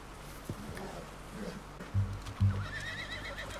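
A horse in the Red Dead Redemption 2 video game whinnies with a few snorts and thuds of hooves, the neighs fairly close against low outdoor ambience.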